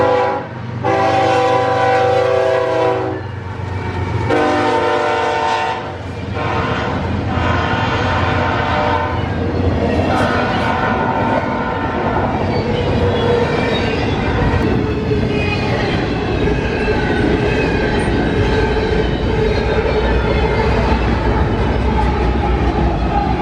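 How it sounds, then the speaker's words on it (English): Eastbound intermodal freight train led by an NS C6M diesel and an ACE, with two DPUs, passing close with loud sustained horn blasts at the start, then a continuous heavy roar of locomotives and rumbling cars. "The next train we would see before moving spots is an eastbound S intermodal with a fresh NSC6M second and an ACE third"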